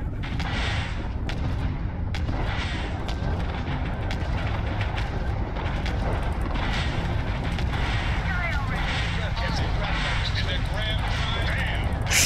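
Spaceship weapons firing in the video game Starfield: a dense, continuous barrage of booming blasts and rumbling impacts that stays loud throughout, with voices over it.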